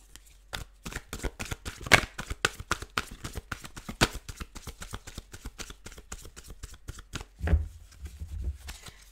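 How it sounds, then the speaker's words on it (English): Rapid, crisp riffling of a deck of cards, dozens of quick snapping flutters in a steady rhythm, close and clear, ending with a soft tap. "I want to shuffle this deck, and I want to shuffle it so that it, like, it really gets right"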